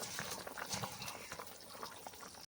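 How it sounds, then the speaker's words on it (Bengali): Curry broth for a prawn and lentil-fritter dhokar dalna boils in a pan, a faint continuous bubbling and gurgling with soft pops, steady and alone. "ঝোল খুব ভালো করে ফুটছে"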